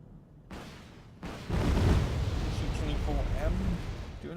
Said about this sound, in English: AGS is providing some useful fire support.